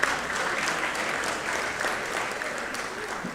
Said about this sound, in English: Everybody give Dr. McCormick a round of applause here for being here today.